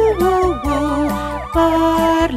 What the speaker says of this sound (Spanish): La sirena del camión hace